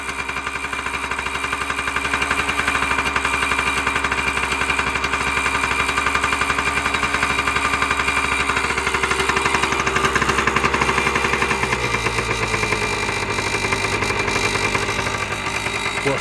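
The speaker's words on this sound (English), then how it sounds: "We'll let it run for a minute on choke." Small engine idling on choke, a loud, steady, rapid chugging drone that holds without pause and dips slightly in pitch near the end, heard close up with no talking.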